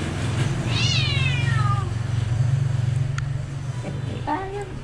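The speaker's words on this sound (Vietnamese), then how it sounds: "mèo này kêu quá trời." A cat in a damp, cramped home in Saigon meows loudly in rising-then-falling calls, with a second shorter meow near the end, over a steady low hum.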